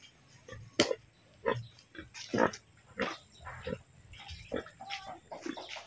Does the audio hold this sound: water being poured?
no